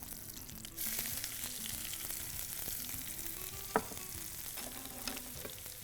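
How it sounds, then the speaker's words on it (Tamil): Sliced onions with fennel seeds and curry leaves sauté in hot oil, a continuous close sizzle with stirring scrapes and one sharp clank of the spoon on the pan. "இதை வதக்குறோம்."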